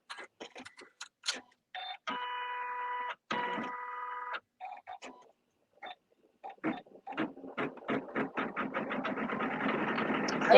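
A sewing machine stitching a quilt block with open stitching, running in short bursts and pauses, then settling into a faster steady rhythmic stitching near the end; close and clear with little else around.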